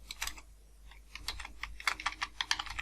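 Fingers typing VBA code on a computer keyboard, producing quick, uneven runs of close clicking keystrokes with a brief pause near the start and no voices.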